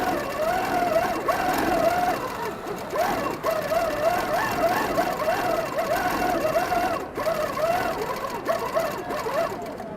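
A Handi Quilter long-arm quilting machine with TruStitch runs steadily through a quilt, giving a continuous motor whir with a rapid rhythmic stitching pulse that rises and falls in pitch, loud and close throughout.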